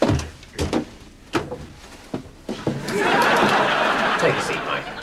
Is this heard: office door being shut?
yes